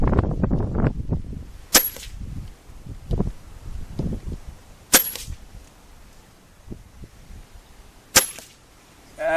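Three sharp, snappy shots from a Benjamin Titan NP air rifle firing Norma pellets ring out a few seconds apart, each a crisp crack amid gusty wind rumble.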